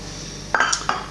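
A small frying pan knocks and clinks as it is handled in a kitchen, giving three or four close, brief metallic contacts after a quiet start.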